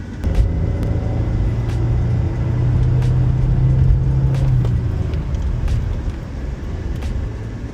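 A car on a test drive accelerates toward highway speed, its engine rumble steady and close, rising in pitch and loudness midway before easing off, with no talk over it.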